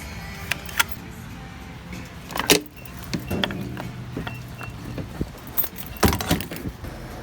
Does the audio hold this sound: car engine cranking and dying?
yes